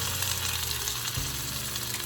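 Chopped sausage sizzles loudly in a hot pan with brown sugar being stirred in, a constant bright frying hiss with faint scraping from the stir, close and without talk.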